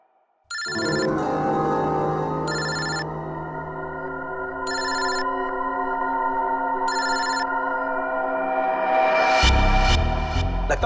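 A telephone rings with four evenly spaced electronic trills, loud and close, over a sustained tonal musical bed that swells toward the end. No talk.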